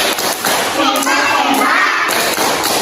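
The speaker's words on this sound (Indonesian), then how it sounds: "tepuk hebat untuk kita semua" Dense, sustained applause from a group, steady and fairly loud throughout with a few sharper hits, and faint voices mixed in.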